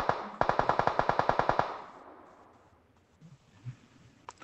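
A burst of about a dozen rapid automatic gunshots rings out in PUBG Mobile, close and loud, then fades into a quiet, echoing tail with faint scattered sounds.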